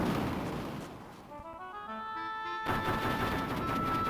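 Explosions in the video game Final Fantasy II: rumbling, crackling blasts and game effects fill the whole stretch, with a tonal musical passage in the middle before the noisy bursts return loudly.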